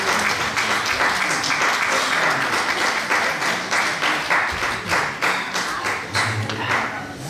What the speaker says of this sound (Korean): 다시 큰 박수로 축하하겠습니다